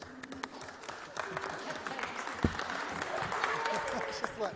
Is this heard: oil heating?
no